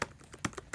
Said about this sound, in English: I apologize for the major noise as I'm typing there